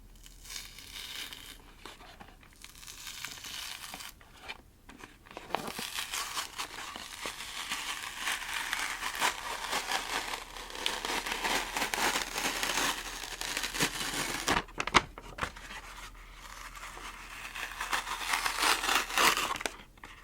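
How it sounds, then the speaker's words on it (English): A paper backing is slowly peeled away and crinkled up close, giving long stretches of soft crackling and tearing with brief pauses and a sharp snap near the middle. "Okay, well that took the paper backing off."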